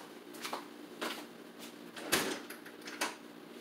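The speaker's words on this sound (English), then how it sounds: "I might play the video after I close the door." A door is shut in an indoor room: a few soft knocks and clunks, then one sharp, close thud near the middle, followed by a lighter bump.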